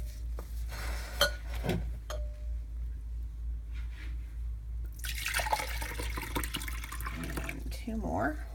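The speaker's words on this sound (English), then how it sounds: "we're going to add 4 cups of water" Four cups of water pour and splash into a container for homemade jewelry cleaner over a low steady hum, with a few clinks of handling before the flow starts.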